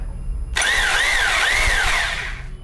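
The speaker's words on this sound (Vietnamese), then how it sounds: "Ta chuyển qua chế độ búa" Switched to hammer mode, the HUSPANDA 2801 rotary hammer drill bursts on loudly, running with a rapid hammering buzz and a wavering motor whine for about two seconds before stopping, up close and with no talk.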